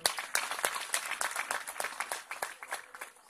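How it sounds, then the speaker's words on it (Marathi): Audience applause from a seated crowd at an IAS officer workshop, a short burst of dense clapping that rises and tapers over a few seconds. "त्यांच्यासाठी टाळ्या वाजवा एक वेळ."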